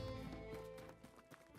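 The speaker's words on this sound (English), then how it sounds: "I'm gonna go check out the horse real quick." Horse hooves clip-clopping in the tavern management game Tavern Manager Simulator, a short run of quick, close hoofbeats at low volume.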